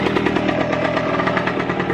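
A cold Kawasaki KE motorcycle engine fires on the first kick and runs, a close, loud, fast-pulsing two-stroke putter with no voices.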